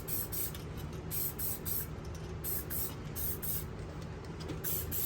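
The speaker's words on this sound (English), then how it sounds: "So we'll spray the top hats," Steady hissing aerosol lubricant spray in several bursts onto coilover suspension parts of a 2008 Infiniti G37 coupe, close by, with a continuous low hum underneath and no talking.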